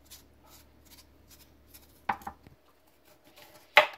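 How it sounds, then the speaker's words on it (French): A knife cutting cucumber into thin slices on a cutting board, with a few sharp close knocks against the board after quiet handling noises. "Donc je vais découper mon concombre en lamelles."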